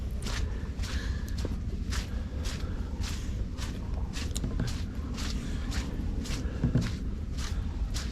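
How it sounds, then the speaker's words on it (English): Footsteps squelch through wet mud in a pumpkin patch field, a regular series of soft squishy steps roughly twice a second over low wind rumble, close by, with no voices. "Hear me going squish, squish, squish."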